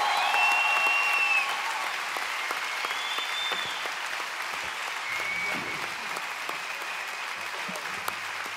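Audience applause at a live concert, steady and full at first, then settling into a softer, sustained wash of clapping that carries on to the end.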